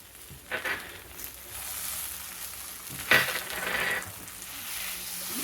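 Grated coconut is stirred into a vegetable dish of kachu shak frying in a pan, giving a continuous sizzle with louder scraping bursts as it is mixed.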